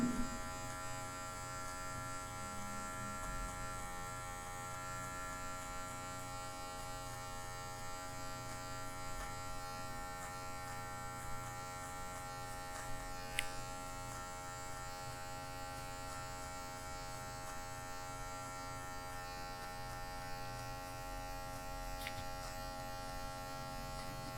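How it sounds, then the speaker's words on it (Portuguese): An electric hair clipper set to zero runs continuously with a steady buzzing hum as only its tip trims darker spots in a natural fade haircut, close and even, with faint occasional clicks. "a gente vai usar, ó, zero alta, só a ponta da maquininha, para tirar essas partes aqui mais escurinhas"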